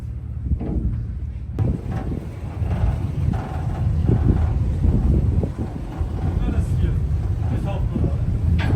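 Ferry cruising across Lake Zurich in choppy, sea-like waves, with steady low wind rumble and water wash buffeting the microphone throughout, continuous and fairly loud.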